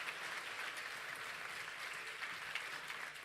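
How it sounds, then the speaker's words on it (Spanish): A congregation at a church service applauds steadily, a dense sustained clapping from many hands that holds at an even level throughout. "dale un aplauso al Señor"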